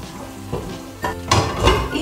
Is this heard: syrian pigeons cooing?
no